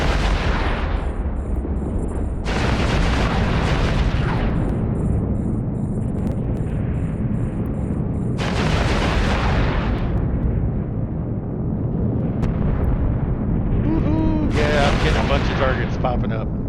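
Heavy battleship guns in EVE Online fire in loud booming volleys at small destroyers, each blast followed by a long rumbling decay, several thunderous reports across the stretch with background hum.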